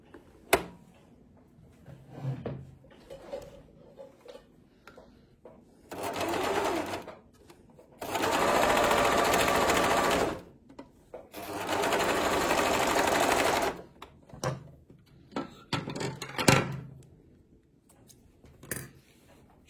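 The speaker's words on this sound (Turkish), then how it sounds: "Şuradan tırnaksız dikiyorum." A domestic sewing machine stitches fabric with its presser foot removed, running in several steady whirring bursts a few seconds each, separated by quieter handling clicks and rustles, close by.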